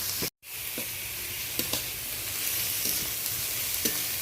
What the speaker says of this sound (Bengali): রসুন পেঁয়াজ আর একটু লঙ্কা হালকা করে নাড়াচাড়া করে নিচ্ছি